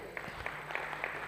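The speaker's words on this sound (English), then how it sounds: "Please a round of applause." Quiet applause from an audience at a vocational training and technology awards ceremony, a soft, steady patter of scattered clapping heard from a distance for about a second, with no talking.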